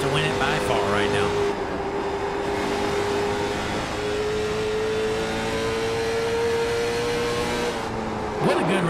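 Late model race cars in the Donut Box Late Model Series at Lucas Oil IRP drone steadily at high revs for the whole stretch, with a rising engine tone and a commentator talking over it.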